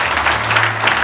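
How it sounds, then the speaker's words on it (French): An audience at a business club launch event in Morocco applauds, a short burst of steady clapping from a crowd with a faint low hum underneath and no voices. "Qu'on les applaudisse très très fort."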